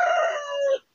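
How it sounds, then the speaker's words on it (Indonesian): A rooster crows once in a single long, loud, close call lasting most of a second, then stops into silence; the birds are at a house where a satellite dish pole is being installed. "di sini banyak ayam ya"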